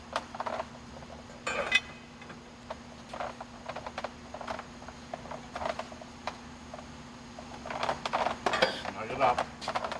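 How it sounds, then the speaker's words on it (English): Metallic clinks and scrapes of a wrench tightening a nut on a Besser Posapac vibrator shaft assembly, scattered irregular taps over a steady low hum, with a busier cluster of clanks near the end. "So that's what we're going to do right now, is tighten this down right here."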